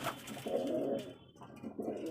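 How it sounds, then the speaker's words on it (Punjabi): Soft, low coos from large pigeons repeat twice, close by, with a faint background hum and no talking. "ਇਹ ਸਾਰੇ ਆਪਣੇ ਵੱਡੇ ਕਬੂਤਰ ਆ ਮਿੱਤਰੋ ਦੇਖੋ ਆ ਫਿਰਦੇ ਆ ਸਾਰੇ ਵੱਡੇ ਕਬੂਤਰ"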